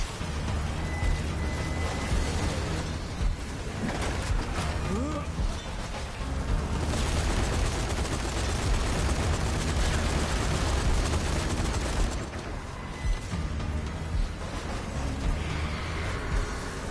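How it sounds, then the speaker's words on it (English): Mortar fire and explosions in the zombie shooter game Zombie Army 4 form a dense, continuous barrage of booms and crackling gunfire, loud and sustained, swelling heavier in the middle stretch. "Mortars, keep moving. Don't let them hit you."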